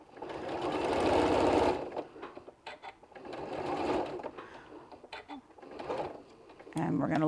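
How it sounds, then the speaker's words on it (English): A sewing machine stitching an eye mask pillow in several runs, a fast whirring hum that starts and stops with short pauses between bursts. "if you need to pivot on your sewing machine"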